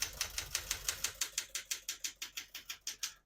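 Typing on a 1968 Smith-Corona Super Sterling portable typewriter, a steady run of about twenty crisp, evenly spaced key strikes, close and alone with no talk.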